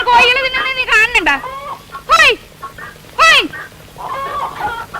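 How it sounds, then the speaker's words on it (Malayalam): Chickens cluck and squawk repeatedly in a Malayalam film scene, with sharp rising calls in bursts close to the listener and a voice occasionally talking alongside. "ആ ഈ പണ്ടാര കോഴികളെ കൊണ്ട് ഞങ്ങളുടെ തോറ്റും"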